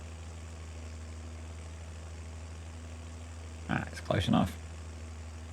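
A tractor engine idles steadily at low pitch in a farming video game on hard mode, a constant hum beneath a short burst of speech near the end.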